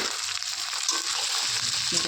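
Goat liver sizzles and fries in a pan with browned onions, tomato and garlic paste, a steady close crackle with a few stirring scrapes and no talking.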